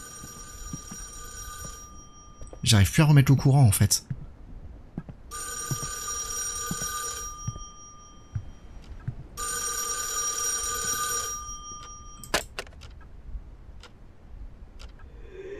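A telephone in the [REC] Paroxysm apartment rings repeatedly in long, evenly spaced bursts, with a man's brief speech and some clattering sounds between the rings.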